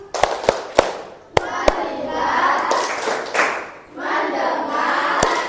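A classroom of standing pupils plays the clapping game tepuk fokus: a few sharp, loud hand claps in an uneven rhythm open it, followed by the group chanting and calling out together in bursts.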